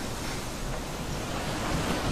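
Ocean waves wash steadily around a sailing boat on a solo round-the-world voyage, a dense, continuous broadband surge with constant wind noise and no voices.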